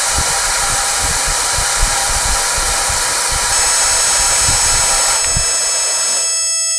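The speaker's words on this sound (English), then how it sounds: "Here's the hairdryer." A hair dryer blows with a steady, loud, rushing whir, its tone shifting slightly partway through, with a few faint low thumps underneath.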